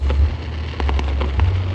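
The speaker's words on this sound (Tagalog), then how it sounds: "Sobrang ganda ng fireworks nila mga kalibot sur." Fireworks burst in a long display, several sharp pops and cracks in quick succession over a steady low rumble, loud and fairly near.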